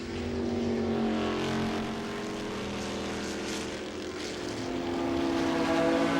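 Historic racing cars at speed on the Le Mans circuit roar past in a loud, sustained blend of engine notes, rising and falling in pitch as the machines run side by side.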